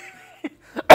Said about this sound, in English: I hate when people cough